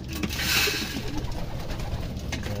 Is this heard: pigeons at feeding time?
yes